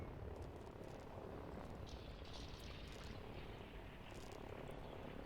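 Helicopters in the video game Line War give off a steady, faint rotor-and-engine drone with no talk over it.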